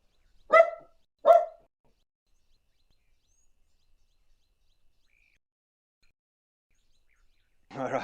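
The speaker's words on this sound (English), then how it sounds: "she gave you all a friendly bark there" A dog gives two short, loud barks in quick succession near a waterhole, then falls silent before a brief burst of noise near the end.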